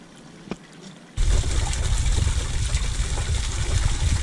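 Water breaks loose from a broken curb stop during a water main repair, jumping from a faint trickle to a loud, steady rushing gush that continues close by.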